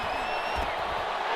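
Stadium crowd at an American football game building toward a big third down, a steady broad roar of cheering and whoops that holds loud throughout without a break.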